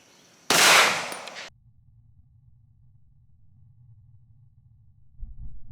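A Canik TP9SFx 9mm pistol fires a single Hornady Critical Defense round outdoors, one loud, sharp, close report that decays over about a second, followed by quiet low background hum.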